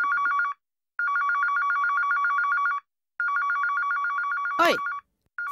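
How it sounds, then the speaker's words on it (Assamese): A mobile phone rings in repeated electronic ring bursts separated by short silences, loud and close, with a brief sharp swooping sound near the end. "ফোনটো ৰিং হৈ আছে উঠোৱা নাই কিয়"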